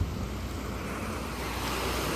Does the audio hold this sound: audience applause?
no